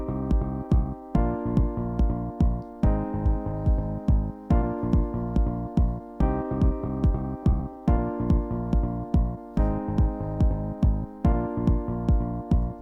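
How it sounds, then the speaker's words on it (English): A bass line programmed in FL Studio plays a steady, pulsing repeated pattern with deep punchy notes that loop over and over, alone with no talking. "we can paste the bass, and it will sound like this."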